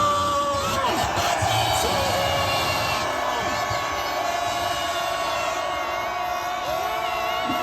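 A rally crowd at an impeachment-opposition protest outside the Corruption Investigation Office roars with sustained cheering, whoops and shouting, dense and continuous, with scattered raised voices across the whole stretch.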